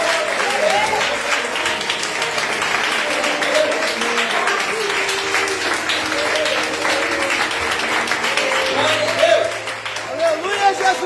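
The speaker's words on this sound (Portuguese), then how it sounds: "Aplauda o Senhor pela vida dela." Church congregation applauding during a Sunday service, a dense continuous wash of clapping with a voice and soft music beneath it throughout.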